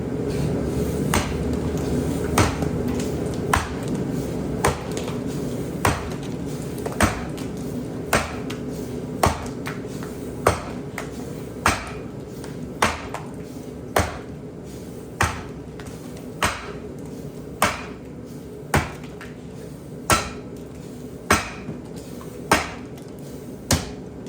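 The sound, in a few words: splitting frozen log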